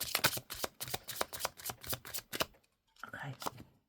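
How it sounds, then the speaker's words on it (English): Playing cards shuffled by hand during a tarot-style reading, a rapid run of crisp riffling bursts for over two seconds, then a brief pause before a softer, shorter round of shuffling. "Last shuffle, and I'll take one from the bottom if not."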